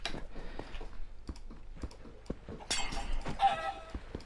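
Minecraft chicken sounds amid game play: short clucks and squawks with sharp clicky impacts and typing-like taps, moderately close.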